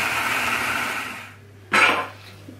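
A food processor spins at speed 15 chopping onion, a loud steady whirring motor that runs on, drops away, then surges again in a short burst.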